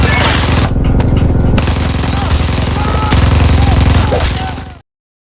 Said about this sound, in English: From behind the window, the Nazis fired mercilessly.